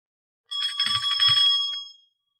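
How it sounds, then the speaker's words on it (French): A small bright tinkle of little bells chimes once for about a second and a half as a page-turn signal in a French storybook record of The Aristocats, clear and alone in silence. "Elle fera tinter ses petites cloches comme ceci."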